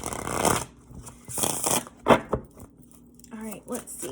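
A deck of tarot cards is shuffled up close in several quick riffling bursts, with a brief soft voice near the end.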